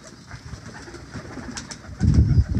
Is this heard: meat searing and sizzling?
no